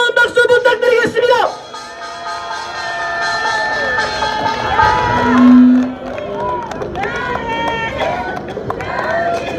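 Crowd at an outdoor political rally in front of a shopping mall in Daegu cheering and shouting as a speaker is introduced, loud crowd noise with whoops and a voice over amplified sound.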